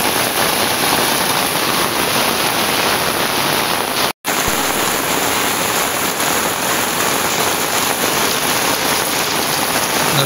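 Steady, loud downpour of heavy rain around a Konkan village home, a thick unbroken roar of water lasting throughout apart from one momentary dropout midway.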